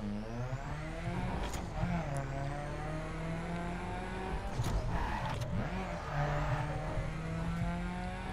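A car engine in the racing video game The Crew hums and revs steadily, pitch rising and falling through gear changes as it speeds along, with brief whooshes and no speech.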